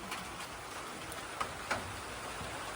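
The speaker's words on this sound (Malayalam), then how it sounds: "നല്ല മഴ വന്നു ഇപ്പോൾ" Steady rain falls at a bus stop on the KSRTC route from Thiruvananthapuram toward Ponmudi, a constant soft hiss with a couple of sharper drip ticks, with no voices.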